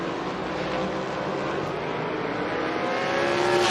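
Winged sprint cars roar around a dirt oval during a C-Main race, a continuous loud, dense engine drone with rising revs toward the end and no voices over it.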